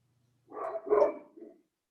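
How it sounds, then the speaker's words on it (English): A dog barks nearby in a short burst of two or three quick, fairly loud barks, then falls quiet, heard clearly and alone. "I like the dog barking."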